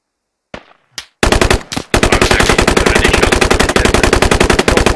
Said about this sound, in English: Sounds like we're getting shot from the west.